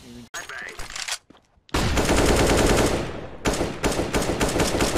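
First-person shooter gunfire comes as loud, rapid automatic bursts. A brief burst opens the clip, then a gap, then a long sustained stream of shots that pauses once and starts again, with no voices over the shooting.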